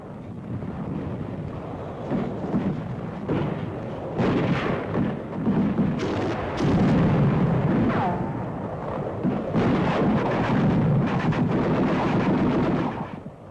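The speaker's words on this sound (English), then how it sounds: "Mortar and small arms fire reduces forward progress to a slow yard-by-yard maneuver." Mortar blasts and small arms fire rumble through the World War II battle on Iwo Jima, heavy booms and crackling shots rolling continuously with loud, dense, distant-to-mid-range reports.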